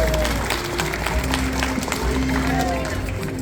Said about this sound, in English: Let's give a round of applause for our rocketeer.